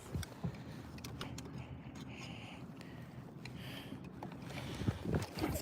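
A Nitro Z20 bass boat runs across open water on a bass fishing outing, a steady rushing hull-and-motor noise mixed with wind buffeting the microphone, continuous and fairly loud with no speech.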